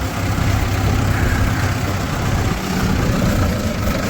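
A tractor engine runs at a steady idle, a continuous loud low rumble with a broad mechanical roar that holds even throughout.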